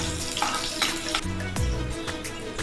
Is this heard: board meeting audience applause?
no